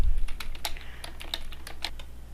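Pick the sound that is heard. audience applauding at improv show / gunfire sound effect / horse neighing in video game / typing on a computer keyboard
typing on a computer keyboard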